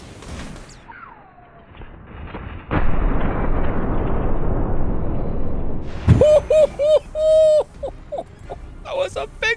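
A rocket blast in a RimWorld battle booms into a long, loud roaring wash of noise, followed by chirpy game effects and a burst of short high electronic tones.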